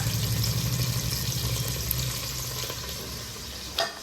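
Hot oil frying fish in a pan with five-spice seeds, onion and chili, a dense steady sizzle and bubbling up close, easing slightly toward the end with a brief clatter near the finish.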